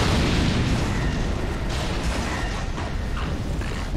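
A bomb explosion in Dark Souls 2 Scholar of the First Sin at Brume Tower, a loud sustained rumbling blast that fills the whole clip with no clear break.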